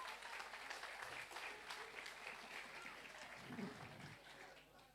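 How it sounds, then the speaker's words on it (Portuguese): A church congregation at a Sunday school service claps together in a sustained round of applause, heard from a distance and fairly soft, with a brief murmur of voices. "Miguel, uma salva de palmas para eles."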